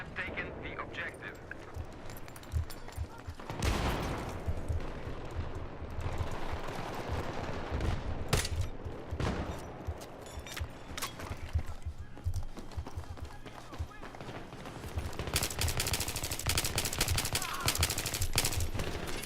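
In a Battlefield 3 match at Ziba Tower, an automatic weapon fires on full auto in sustained rattling bursts with scattered distant shots, punctuated by a few sharp louder blasts, under game radio chatter.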